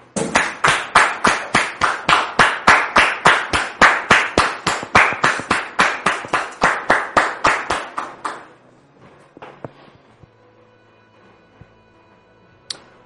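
An audience claps in rhythmic, steady unison beats, loud and close, for about eight seconds before fading out into a near-quiet room.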